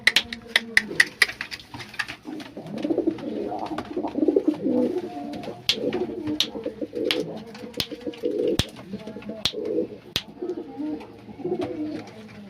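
Fancy pigeons, including Telmark and white lotan types, coo repeatedly in a cage at home, with soft rolling coos close by, broken by sharp clicks and rattles of the cage.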